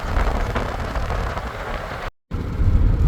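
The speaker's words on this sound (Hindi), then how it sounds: "बारिश हो गई है यहाँ पर" Heavy rain with fat drops on a Fuxing Hao bullet train travelling from Shanghai to Beijing at high speed, a dense steady roar and patter from inside the carriage, briefly cutting out partway through.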